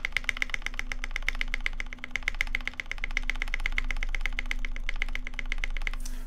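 A mechanical keyboard spacebar tapped rapidly and repeatedly, producing a dense run of close, crisp clacks over a faint background hum.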